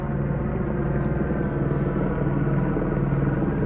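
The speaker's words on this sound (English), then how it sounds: "They've called a helicopter at the baseball game" Police helicopter over a high school baseball game, a steady low rotor rumble and drone filling the whole stretch, constant and fairly loud without pauses.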